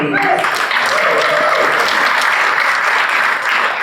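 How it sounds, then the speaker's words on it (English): Rotarians and guests at a club leadership transition meeting give a round of applause, a dense continuous clapping from a roomful of people, loud and steady throughout. "big round of applause for Amber Burns-Jones"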